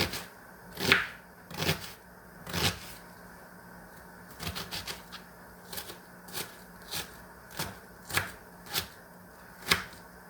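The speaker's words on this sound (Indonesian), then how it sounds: "Terus aku lanjut motong-motong ini yang buat diselek ya, ini mah diiris-iris aja." A knife chops ingredients on a cutting board for a goat meat dish, with sharp, crisp taps in an irregular run, some spaced and some in quick clusters, close and clear with no talking.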